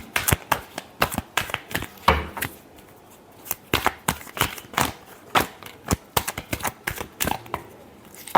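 Tarot cards being shuffled by hand during a weekly horoscope reading, a run of crisp riffling bursts in a steady, uneven rhythm, close and fairly loud with no talking.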